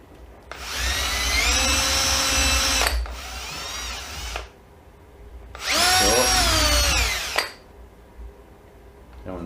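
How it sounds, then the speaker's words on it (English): A power drill runs in two long bursts, pitch dipping as it bites into wooden floorboards, with a short pause and quiet handling between. "Then you take your drill,"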